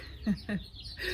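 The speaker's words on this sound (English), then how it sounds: "Can you hear the robins singing in my yard?" Robins sing in a spring yard in the morning, with two short, soft chirps close together followed by fainter calls, all quiet and somewhat distant.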